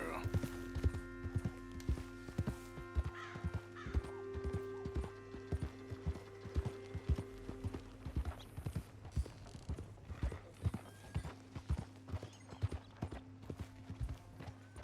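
Steady clip-clop of horse hooves at a trot in Red Dead Redemption 2, rhythmic and continuous, with game-style music and mechanical clicks layered underneath.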